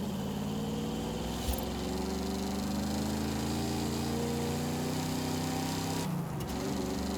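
Muscle car Super Bee engine in Forza Horizon 5, a steady low rumbling drone held throughout with a brief gear-shift dip near the end, no talk.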